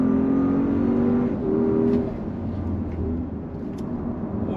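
A Porsche Cayenne E-Hybrid, a 700-plus horsepower hybrid SUV, pulling hard out of a hairpin on a track: a loud, steady engine drone with a pitch shift partway through and continuous road roar, without talk.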